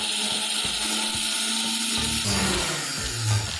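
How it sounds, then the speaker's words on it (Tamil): A blender grinds ginger and garlic into paste steadily with a harsh, whirring roar, its pitch shifting as the contents break down partway through. "இஞ்சி பூண்டு பேஸ்ட் அரைக்க ஆரம்பிக்கலாம்."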